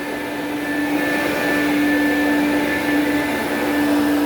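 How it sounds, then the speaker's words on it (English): A Quantum X water filtration upright vacuum cleaner runs steadily, a loud continuous whirring motor drone with a high tonal whine held throughout, alone without talk. "It picks up more dirt, dust, allergens than a traditional upright vacuum cleaner."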